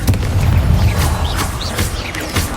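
Confringo blast spell from the Hogwarts Legacy video game, a loud booming explosion with crackling bursts and rumbling debris, close and forceful across the short stretch.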